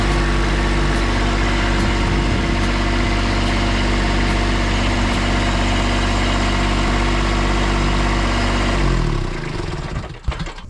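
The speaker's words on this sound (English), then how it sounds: "First thing you can do, start your tractor up." A tractor engine idles loudly and steadily for about nine seconds, then shuts down, its rumble fading out into a few clunks; no one speaks.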